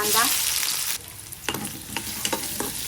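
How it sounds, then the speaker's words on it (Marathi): Chopped onion fries in hot oil with cumin, mustard seeds and ginger-garlic paste, a loud steady sizzle that drops to a softer crackle, broken by several spatula stirs against the pan. "कांदा चांगला लाल परतून घ्यायचा आहे"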